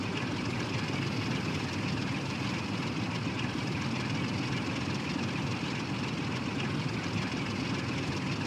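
A train engine rumbles under throttle in Train Sim World 6, a steady, even droning roar with broadband running noise, holding constant and loud with no talking.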